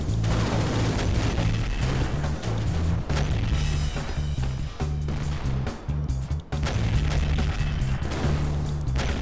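Explosive shells strike a nine-ton tank in an armored combat game, a continuous barrage of loud booming impacts and crashes. A low droning engine hum runs underneath throughout.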